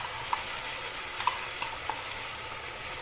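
Cashews frying in a pan give a faint, steady sizzle, with spinach paste added and a few light scrapes and taps from stirring.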